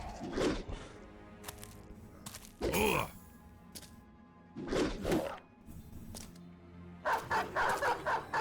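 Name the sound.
dog barking in Battle Brothers video game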